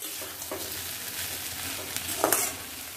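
Four slit green chillies frying in a pan as they are stirred: a constant hissing sizzle with a few soft scraping strokes and one louder stir near the end, no speech.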